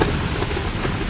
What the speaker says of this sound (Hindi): अचानक से एक दिन उस गांव में भयंकर तूफान आता है